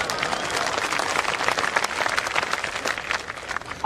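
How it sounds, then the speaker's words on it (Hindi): Audience applause fills a political speech gathering, dense steady clapping from a crowd, fairly close and continuous, with a brief voice starting right at the end. "आप जो तालियां बजा रहे हैं"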